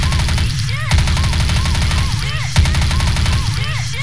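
Rapid automatic gunfire from an MP5 WindRunner submachine gun in the shooter game Truy Kích, loud and sustained in dense repeating bursts, with a speaking voice running underneath.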